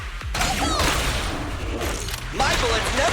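Gunfire in the ZZZ video game: a dense, noisy burst of shots and impacts running the whole time alongside game effects and swooshes, loud and busy with a short lull near the middle.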